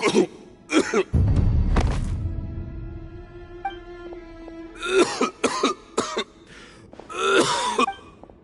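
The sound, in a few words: character coughing in Genshin Impact video game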